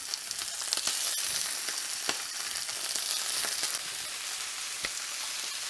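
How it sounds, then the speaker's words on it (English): Shrimp searing in butter and olive oil in a hot pan, giving a bright continuous sizzle with scattered sharp pops and crackles, close and steady throughout. "They only take about a minute to a minute and a half on each side to sear."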